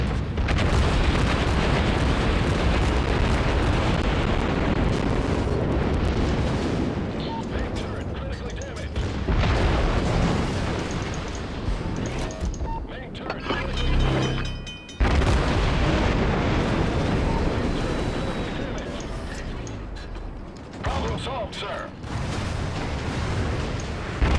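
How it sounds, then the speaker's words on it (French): Deep booming blasts of cannon fire roll in repeatedly amid a dense rumbling din, with voices talking now and then. "Il y a beaucoup de canons, hein, quand même."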